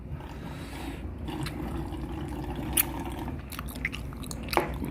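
Tteokbokki being eaten, with soft wet chewing and a few small bites and smacks close up over a low steady background hum.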